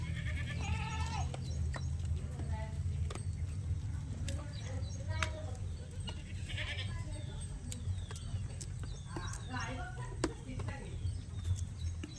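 Kathiawadi goats, roughly seven to eight months old, bleat repeatedly at a farm, with several overlapping calls over a steady low rumble and occasional hoof-like knocks, with faint voices in the background.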